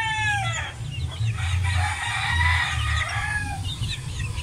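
Hens and young chicks cluck and peep together nearby, with high chick cheeps over a low run of hen clucking, continuous throughout and without talk.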